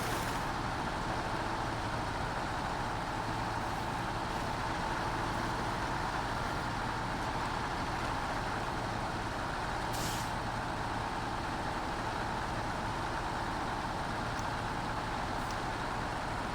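Truck engine from the SnowRunner video game, a low, steady rumble with a sharp hiss of air brakes releasing about midway, fairly quiet and with no voices over it.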